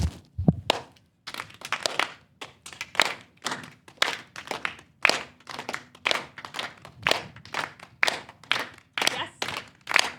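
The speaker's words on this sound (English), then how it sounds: "The people to my left, what I want you to do is clap 2 times to every 1 clap of mine" Audience members at a festival talk on art and belonging clap in a steady rhythm, sharp hand claps repeating at a regular pace for about ten seconds, fairly close and loud in a room.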